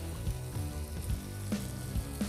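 Garlic added to onion frying in a wok, a steady bright sizzle with a few soft stirring knocks, close and moderately quiet.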